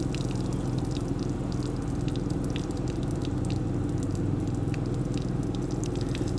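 Water runs steadily from an RV's outdoor shower faucet during winterizing, a constant low hiss and gush with a pump hum beneath, close and fairly quiet.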